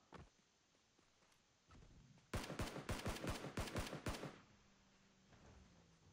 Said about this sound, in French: Ok, il y a des tirs là-bas.